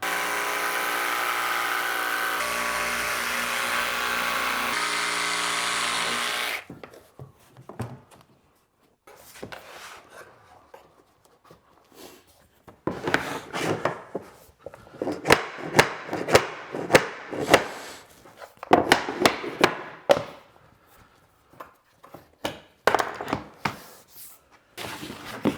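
General purpose jigsaw blade cutting vinyl plank flooring: a steady loud buzzing cut for several seconds, then scattered clicks, knocks and rattling handling of planks with pauses between, close by and without talk.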